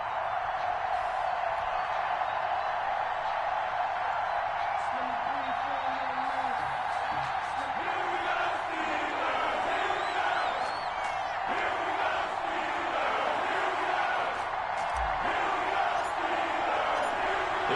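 A crowd roars and cheers in an NFL stadium in a football video game before a Houston Texans versus Pittsburgh Steelers matchup, with a sustained distant wash of noise and rising shouts.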